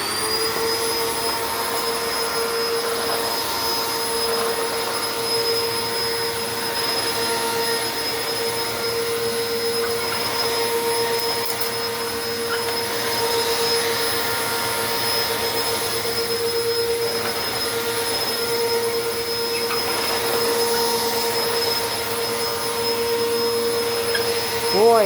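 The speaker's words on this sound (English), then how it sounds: "Let's give you a vacuum test in 3," A vacuum cleaner runs steadily and loudly with a high whining motor tone and constant airy roar, unbroken for the whole stretch.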